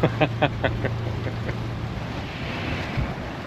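A steady low engine hum drones on a sailboat sailing solo toward St. Martin, with wind and water noise around it and a few sharp knocks early on.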